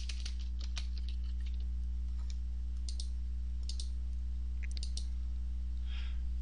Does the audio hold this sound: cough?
no